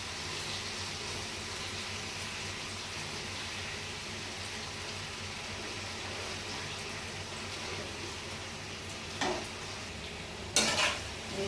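Chilli paneer in tomato sauce is stirred in a pan over a soft, continuous sizzle, with a couple of sharp spoon scrapes against the pan near the end.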